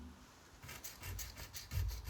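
Coarse sandpaper works the concave inner face of a part from a rubber-powered stick-foam model plane kit, giving soft, close rasping strokes in a steady back-and-forth rhythm that swell louder toward the end.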